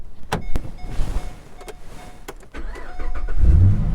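A government surplus vehicle is handled with a few clicks and knocks and a whining power window, then its engine cranks and catches and swells into a louder rev, close by, with no talking.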